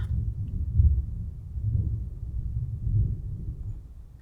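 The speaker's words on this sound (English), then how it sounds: "That's a lot of thunder." Rolling thunder heard indoors during a storm: low, muffled rumbles swelling and fading in several soft waves, fairly faint and distant, with no talking over it.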